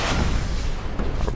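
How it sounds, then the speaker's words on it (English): A rocket turret fires in the game Warhammer 40,000 Space Marine, a loud, low, rumbling blast with whooshing noise that fills the whole short moment. "A rocket turret."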